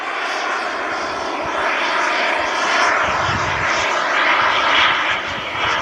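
Boomerang Lancer RC jet in flight with gear up and flaps off, its turbine a steady, loud, sustained roar that swells slightly as it passes, no voices over it.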